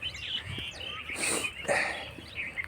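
Small birds flock on an outdoor street, their bright chirps and tweets trading back and forth at close range, with a couple of louder bursts in the middle.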